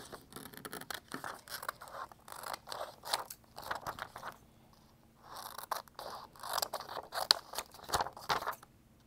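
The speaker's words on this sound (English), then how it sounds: "now I can go ahead and trim out my design" Scissors snip and crunch through a cut vinyl design as it is trimmed out, a close, fairly quiet series of irregular cuts and scraping rustles with short pauses between them.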